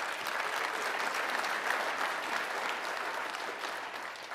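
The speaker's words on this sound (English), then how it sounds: "let's give him a round of applause" Sustained applause from a keynote audience at a climate conference, a steady dense wash of clapping that holds evenly throughout with no talk over it.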